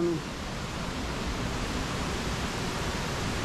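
Steady, dense rushing water roars without pause at Cachoeira Esmeralda waterfall in Roraima, Brazil, a broad hiss of falling water that fills the whole clip at an even level.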